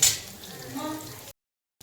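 Crisp eggplant slices fry in a pan just after being flipped. A soft, steady sizzle with light stirring and scraping runs for about a second and a half, then cuts to silence before faintly returning.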